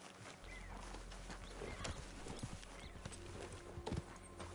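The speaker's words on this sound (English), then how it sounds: "Yeah, my starter horse." Several horses' hooves clip-clopping in Red Dead Online, including a starter horse, a steady stream of overlapping hoofbeats at a riding pace under game ambience, with a few sharper thuds near the end.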